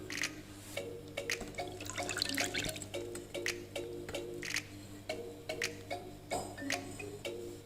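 Water from boiled passion fruit peel strained and poured into a pot, with scattered drips and light splashes at an uneven pace, close and quiet.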